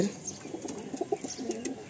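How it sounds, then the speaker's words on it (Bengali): A Kalsira pigeon gives soft, low cooing notes in a brief, quiet burst, close by against light background noise. "এটা কি কালসিরা পায়রা?"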